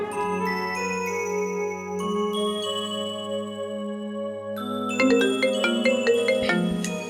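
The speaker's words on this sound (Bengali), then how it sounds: "আমার ফোনে ফোন আইছে।" A phone ringtone plays continuously, a bright electronic melody of sustained tones that shifts to a busier, denser pattern near the end, with no talking.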